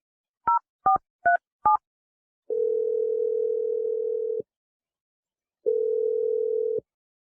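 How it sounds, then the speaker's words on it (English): A telephone number is keyed in with four quick DTMF button beeps, followed by two long steady ringback tones separated by a pause, clean and isolated. "I'm going to dial Dave's phone number"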